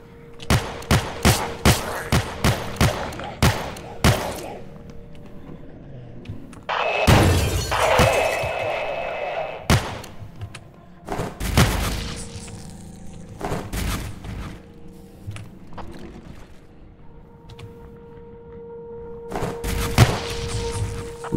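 Gunshots ring out in the video game Forgive Me Father: a rapid series of sharp blasts at first, then a roaring burst, followed by scattered single shots and booming impacts over the game's background ambience.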